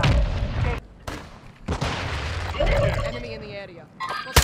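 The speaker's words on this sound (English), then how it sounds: "Mortar strike inbound now." Mortar strike explosions in the Warzone video game, several heavy booming blasts in irregular succession with rumbling low-end tails, mixed with game noise and voices talking over them.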